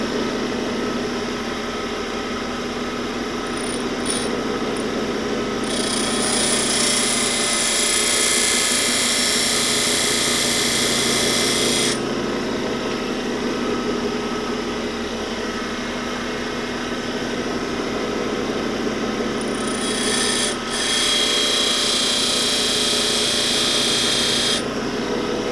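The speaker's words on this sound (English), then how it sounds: "when I come in there and grind, being above center line automatically puts relief onto the tool bit there." A tool bit being ground on a lathe setup, with a continuous mechanical whir and two stretches of bright, hissing grinding, loud and close with no talk.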